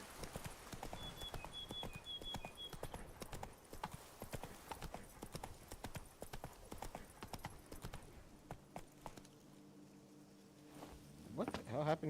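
Horse Roach galloping in a video game, rapid rhythmic hoofbeats pounding continuously and close, easing off near the end.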